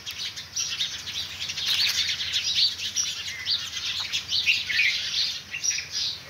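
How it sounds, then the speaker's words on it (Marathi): Many birds chirping and calling in the early morning around 6:15 under an overcast sky, a dense continuous chorus of high tweets and squawks. "पक्षी उठलेली आहे."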